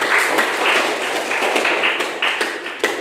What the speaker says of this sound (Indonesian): tepuk tangan untuk Alda